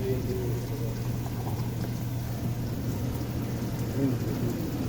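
Water trickles and drips steadily through a vertical farming setup for mud crabs, a constant, fairly soft wash of splashing flow with no pauses.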